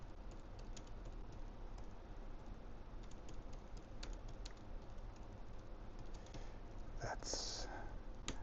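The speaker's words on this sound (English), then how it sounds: "Let me type back real quick." Quiet typing of a reply to text messages, probably on a phone or keyboard, with soft irregular taps and clicks over low background noise, faint and close, plus a brief louder rustle near the end.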